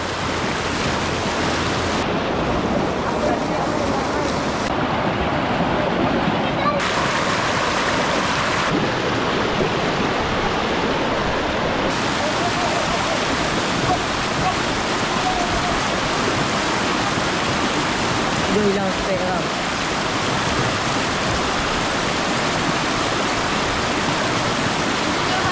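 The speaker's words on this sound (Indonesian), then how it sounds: "Kami mandi di lubuk Sungai Pansut." A river stream flows at Sungai Pansut in Hulu Langat, making a steady, loud rushing of water that stays even and unbroken throughout, with no voices over it.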